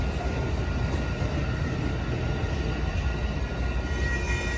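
Amtrak Coast Starlight passenger train led by an ALC-42 locomotive passing by at 98th Avenue in Oakland, California, with a steady loud rolling rumble of railcars going by close at hand.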